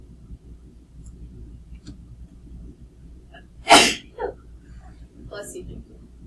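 A single sharp, loud human sneeze cuts through a quiet room, followed by a short voiced aftersound, with soft talk before and after it.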